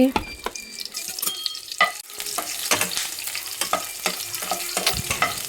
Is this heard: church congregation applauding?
no